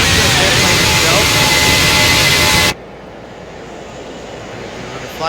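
A Boeing 737-800 jet engine roars loudly and steadily in the X-Plane 10 flight simulator, then abruptly drops to a much quieter, muffled hum partway through.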